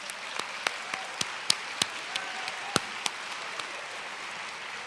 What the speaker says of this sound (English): I want to give all of our men or males a round of applause for being here.